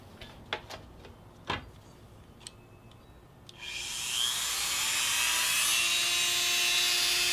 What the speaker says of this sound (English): I'm going to try using this little Dremel tool